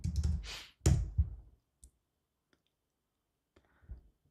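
Typing on a computer keyboard while entering a command in a terminal: a short flurry of close keystrokes, then a few scattered clicks and a final cluster of taps after a pause.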